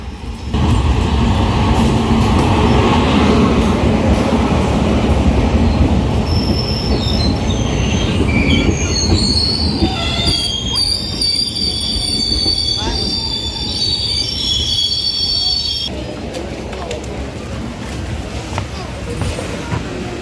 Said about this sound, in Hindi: 2 मिनट लेट सही, लेकिन मेरी ट्रेन आ चुकी है।